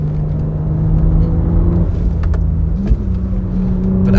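An Audi RS5 on wide 285 tires sweeps through alpine mountain corners, its engine a steady, close, droning hum with a slight rise in pitch toward the end, no talk over it.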